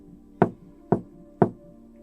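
Three evenly spaced, solid knocks on a door, close and distinct, each a sharp hit with a short decay, against a quiet background with no talking.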